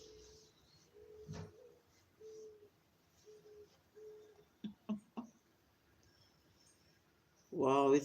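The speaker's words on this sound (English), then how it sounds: "Wow, it's so nice to hear a bird." A bird calls outdoors with soft, repeated cooing notes, fairly faint and spaced a second or so apart, with a few sharp clicks and a louder burst of noise at the end.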